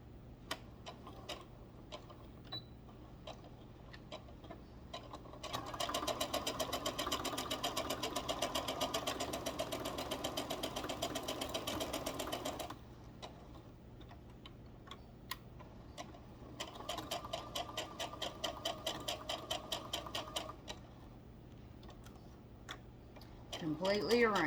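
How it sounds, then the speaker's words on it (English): A sewing machine stitches the inner circle of fabric for a Mickey ears donut, running in two steady, rapid bursts of even mechanical ticking separated by a quieter pause with faint handling sounds. "First you sew the inner circle."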